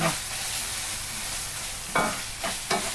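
Pork fries in a pan with a loud, steady sizzling hiss, followed near the end by three short stirring scrapes.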